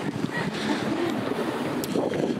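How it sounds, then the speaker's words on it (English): Steady wind rushes across the microphone high on a bridge in Mostar, a continuous blustery roar with low rumbling buffets throughout. "It's too windy up here, obviously."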